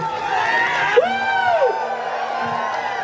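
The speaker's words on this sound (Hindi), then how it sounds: "आप चिल्ला सकते हैं खुशी से।" A crowd at a goods-shed workers' meet in Dhemaji, 2024, cheering and shouting with joy: a steady roar of many voices with one long rising-and-falling whoop standing out, fairly close and continuous.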